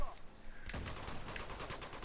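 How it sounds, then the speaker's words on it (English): Bursts of gunfire from the Uncharted 2: Among Thieves video game crackle in quick, dense succession, fairly faint, with a voice briefly heard in the mix. "What the hell are they shooting at?"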